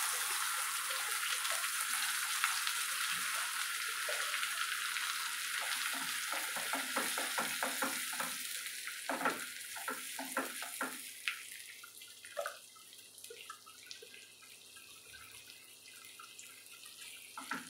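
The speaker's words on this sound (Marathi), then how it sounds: "परतून घेऊ आपण छान ही पेस्ट ही" Masala paste sautéing in a small amount of oil, a steady sizzle with scattered clicks and scrapes of stirring that thin out toward the end, no voices.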